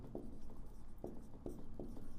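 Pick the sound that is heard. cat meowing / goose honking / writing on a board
writing on a board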